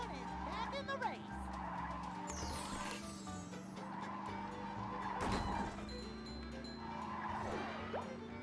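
A paddy wagon races through a video game with a steady engine hum, repeated tire squeals and skids, and someone talking over it.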